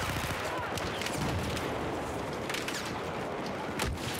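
Rapid gunfire from a shooter video game crackles continuously, with dense overlapping shots and bursts sustained at moderate loudness throughout.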